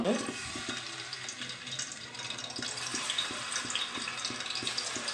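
Plantain pieces fry in oil in a kadai, giving a steady close sizzle with faint intermittent scraping and stirring knocks throughout.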